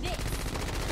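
Rapid automatic gunfire in a multiplayer shooter game, a dense burst of shots lasting under a second, loud and close.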